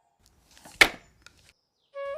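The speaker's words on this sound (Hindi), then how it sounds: "जंगल में लकड़ियां काट रहा था" A single sharp axe chop into wood in a forest, loud and close, followed by a short tonal chime-like sound.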